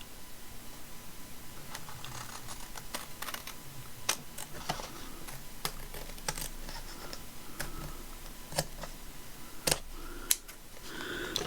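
Scissors snip through paper at a craft desk in a sequence of quiet, crisp cuts. A couple of the closes come out sharper and louder toward the end, over a soft steady room hiss and with no talking.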